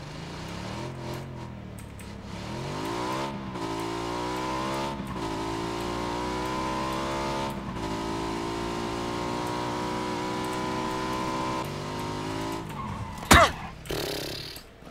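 A motorbike engine in PUBG revs and shifts up through its gears, a loud steady drone rising in pitch in repeated climbs, ending with a sharp crash-like burst near the end; no talking.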